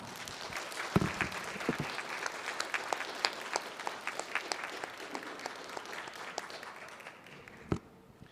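Church congregation applauding after a sermon reading, sustained clapping from many hands, moderately distant, fading out near the end.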